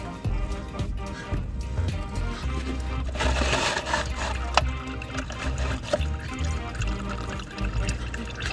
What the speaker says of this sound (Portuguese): agora coloquem a paradeira por baixo e desapertem à mão, vai cair óleo.